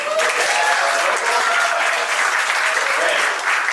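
A stand-up comedy crowd of Las Vegas locals claps loudly and steadily for nearly four seconds, a dense, continuous roar of hands filling the room.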